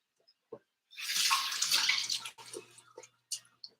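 Kitchen utensil rinsed under a running tap in a home kitchen, a steady close splash of water for about a second and a half that breaks into softer trickles and drips.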